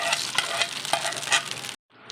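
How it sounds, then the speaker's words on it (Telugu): Mustard seeds, one dried red chili and curry leaves sizzle in hot oil as a tempering for peanut and roasted gram chutney, a steady crackling hiss with sharp pops that briefly cuts out near the end. "ఆవాలు, ఒక ఎండుమిర్చి, కరివేపాకు వేసేసి తాలింపు వేసుకోవాలి."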